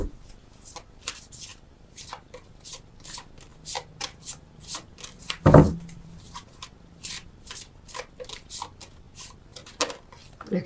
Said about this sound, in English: as I'm shuffling, it just opens me up and I get more messages